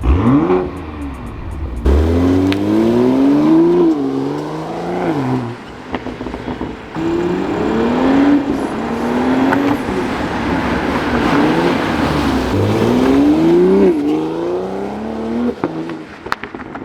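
Gen 3 BMW B58 engine with a new downpipe revs repeatedly from outside the car, loud rising and falling sweeps in several bursts with brief drops between them.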